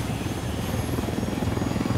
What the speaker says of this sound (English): Alright, let's get this chopper where it needs to be.